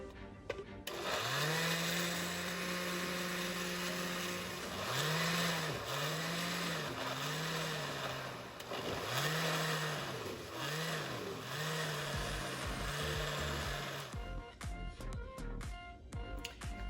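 An electric blender whirs through Caribbean green seasoning herbs, a loud steady motor whine that dips and surges in repeated pulses as the blades chop, then cuts off near the end followed by clattering handling noises.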